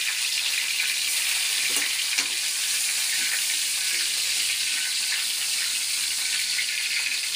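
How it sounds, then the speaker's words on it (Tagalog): Garlic sizzling in a hot pan for a Filipino adobong daing dilis dish, giving a steady, loud, close hiss of frying that runs unbroken throughout with no talking. "Ilagay na natin yung bawang."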